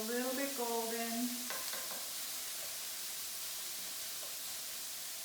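Onions frying in a pan for cauliflower tacos, sizzling steadily while a utensil stirs them. A short harmonic tone sounds at the start, then a few scraping strokes give way to an even, continuous hiss.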